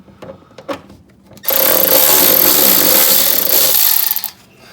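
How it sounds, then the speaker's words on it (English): A power tool whirs steadily for about three seconds while removing 10mm bolts from the front wheel-well area of a 2023 GR Corolla, preceded by a few brief handling clicks and ending abruptly. "you will not need power tools for this, but it just makes it quick, or quicker"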